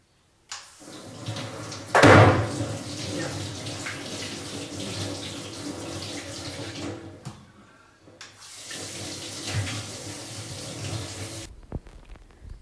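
Mangoes being washed under a running kitchen tap, a steady close rush of water with a louder splash early on and a short pause before the flow resumes.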